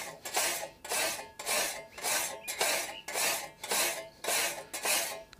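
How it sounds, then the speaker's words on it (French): Hand file drawn flat along a scythe blade edge during sharpening, giving steady rhythmic rasping strokes, about eight in a row, close and clear with no talk. "Donc je place ma lime très à plat"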